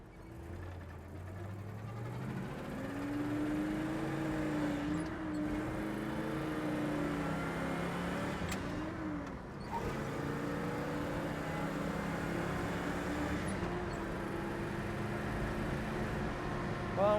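A 1967 Pontiac GTO's engine runs steadily while driving, a low, continuous drone with shifting pitch as speed changes, close and fairly loud throughout.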